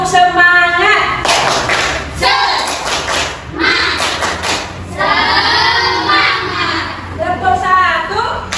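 A group claps in a steady rhythm with children's voices chanting a counting clap routine in Indonesian, the claps loud and close over lively talk.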